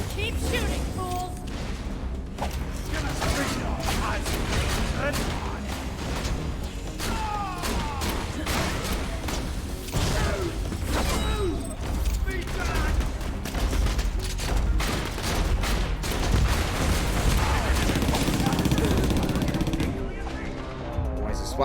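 Gunfire in the video game Borderlands: The Pre-Sequel: dense, rapid bursts of shots and loud impacts go on almost nonstop, with voices talking over the firing.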